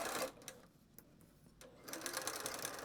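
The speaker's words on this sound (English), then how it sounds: "And then you're going to keep sewing." Sewing machine stitching a pouch seam, running in a fast, steady whir, pausing briefly in the middle, then starting up again, close and clear.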